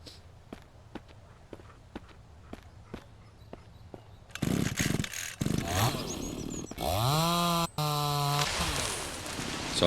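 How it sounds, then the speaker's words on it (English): In the Mist Survival video game, footsteps tap steadily before a chainsaw starts up, revving loudly with rising and falling engine pitch, briefly cutting out, then roaring steadily again close by. "let's arm the chainsaw."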